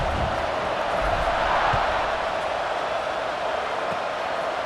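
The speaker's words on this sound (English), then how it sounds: "this crowd is buzzing after that last score" Continuous crowd murmur filling a stadium in the football video game EA Sports College Football 26, a steady, even din with no distinct cheers or peaks.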